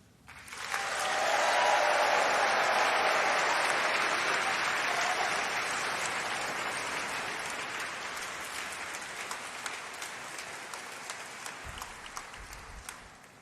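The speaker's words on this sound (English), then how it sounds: "I want to hear a really big round of applause and cheering to get the day going" A large crowd at a university graduation ceremony bursts into loud, sustained applause and cheering that swells quickly, then gradually thins and fades over several seconds.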